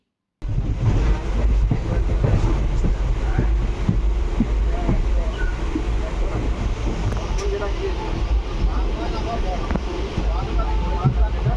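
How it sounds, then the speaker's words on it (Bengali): Interior of a moving passenger train, a loud continuous low rumble and rattle of wheels on rails with wind-like roar, while people talk in the background. "একদম ট্রেনে উঠে পড়েছি আর অনেকটাই ব্যান্ডেল ট্যান্ডেল ছেড়ে বেরিয়ে গেছি"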